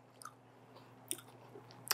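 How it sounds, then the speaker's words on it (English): Chewing on a bite of cheesy stuffed sausage with crunchy peppers and onion, soft close mouth crunches and wet clicks scattered over a low steady hum, faint and without talking. "I love the crunch of the peppers and the onion in there."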